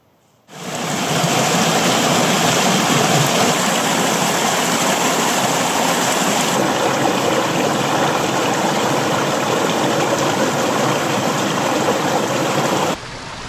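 A small mountain river in the Mourne Mountains with little water in it, rushing in a steady, loud broadband wash that carries on without a break from start to finish and drops off abruptly at the end.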